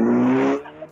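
A small hot hatch along the lines of a Renault Clio RS roars past at close range, a loud, brief burst of engine noise that quickly fades away.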